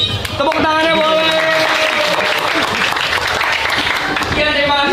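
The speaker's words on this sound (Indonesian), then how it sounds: "Tepuk tangannya boleh." Audience applause from a group of high school students in a classroom, steady clapping that fills the whole stretch at close range, with some voices and cheers mixed in.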